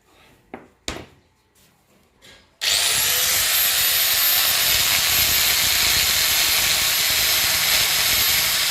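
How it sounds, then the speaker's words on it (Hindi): A few faint taps and knocks come first, then a powered drill spins up sharply and grinds continuously and loudly into the ground beside a house's main door, boring a hole for an object to be set into the earth. "अब यहाँ से हम ड्रिलिंग करेंगे"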